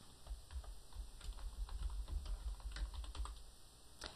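A folder name being typed on a computer keyboard: a quick, close run of light key clicks with an uneven rhythm, heard alone with no talk.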